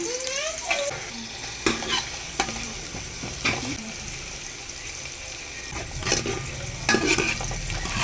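Green chillies and pieces of pond fish sizzle in hot oil in a pan for a fish curry, with steady frying hiss and repeated sharp scrapes and clatters of a stirring spoon.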